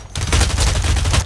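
Rapid gunfire from the online shooter game BlackLight: Retribution, a dense burst of loud, overlapping shots running continuously for just over a second.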